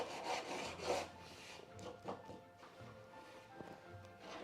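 A wooden door being sanded by hand with a makeshift sanding block, producing soft, raspy back-and-forth rubbing strokes. The strokes are close, irregular and fairly quiet.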